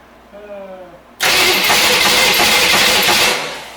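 A junkyard engine meant for a 1972 Corvette, sitting on a garage floor, catches after a short voiced moment and roars loudly and close for about two seconds before dying away.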